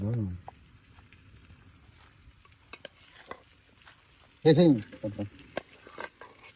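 Chicken goes into a pot of well-browned onions over an outdoor village cooking fire, giving a soft steady sizzle with occasional stirring clinks, under brief bits of talk.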